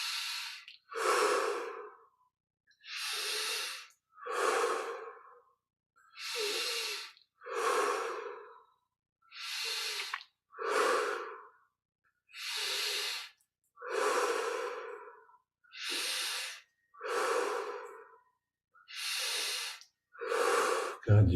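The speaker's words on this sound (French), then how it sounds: "On prend 25 respirations profondes." Slow deep breaths during a guided yoga meditation, about a dozen paired inhale-exhale cycles at an even, unhurried rhythm, close and clear with silence between each breath and no talking.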